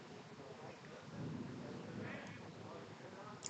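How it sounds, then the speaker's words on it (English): Thunder during an outdoor youth baseball tournament game: a low, broad rumble rolls through the whole stretch and swells midway, with faint voices in the background. "Couldn't tell if that was the Thunder or his bat."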